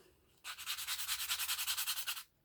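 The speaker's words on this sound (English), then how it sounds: "So get out your good old sanding block." Fast back-and-forth rasping of sandpaper being rubbed with a block, about two seconds of rhythmic scratchy strokes, close and clear.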